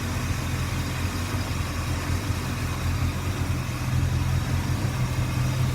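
Original 350 V8 with a four-barrel carburetor in a 1971 Buick Skylark Custom Coupe idling steadily, a smooth low rumble with a constant hum, close and unbroken.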